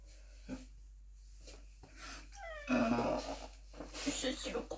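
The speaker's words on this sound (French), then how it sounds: "C'est le gros chat." A big cat makes snorting, wheezing breaths and a few short vocal whines, close to the listener, with scattered bursts of breathy noise and a low steady hum underneath.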